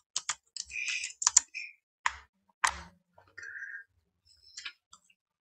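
Fast bursts of typing on a computer keyboard, clusters of close, crisp key clicks separated by short pauses, with no talk.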